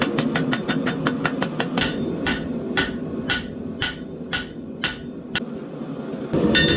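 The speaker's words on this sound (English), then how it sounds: "I use the end of the anvil to make my taper." Hot metal is hammered on the end of an anvil to draw out a taper for a forged spoon handle: sharp ringing blows, rapid at first, then slower and evenly spaced, over a constant forge roar.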